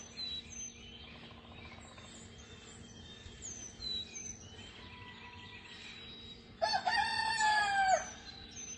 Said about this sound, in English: there's that rooster we love